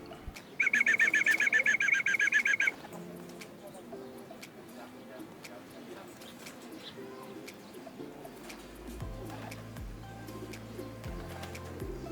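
A racing pigeon arrives at a loft in Lupao, Nueva Ecija, after a training flight, with a brief burst of wingbeats or calls early on, then soft cooing and low rustling over a quiet outdoor background.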